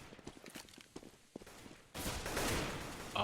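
Pistol gunfire in a competitive shooter video game match, rapid scattered shots and footsteps at first, then a louder, dense burst of game action noise in the second half.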